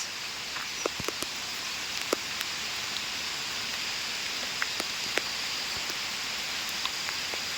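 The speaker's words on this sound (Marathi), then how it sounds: "जोरदार पाऊस." Heavy rain falls steadily with a dense, even hiss of drops, broken by scattered sharp drips and patters, heard outdoors during crab trapping with no talk over it.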